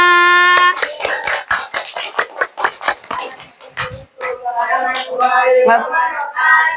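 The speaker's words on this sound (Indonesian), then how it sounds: "Give applause buat teman-temannya." A classroom of students gives a brief burst of clapping for classmates, with rapid hand claps that mix with chatter and voices.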